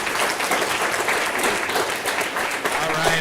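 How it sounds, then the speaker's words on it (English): An audience at a regional pitch competition applauds the first five competing teams, a dense, steady wash of clapping filling the room from start to finish. "can I get one more big round of applause for the first 5 teams that have competed today?"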